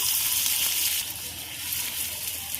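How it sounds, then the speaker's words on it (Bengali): Ghee sizzling in a pan with cumin seeds and chopped garlic, a steady close hiss that eases slightly after the first second, no talk. "দিয়ে দেবো ঘি, দিয়ে দেবো জিরে ফোড়ন,"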